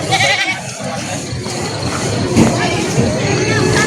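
Goats bleat repeatedly amid a busy, noisy crowd at a livestock market in Uson, Masbate, Philippines, with overlapping animal calls and background chatter filling the scene.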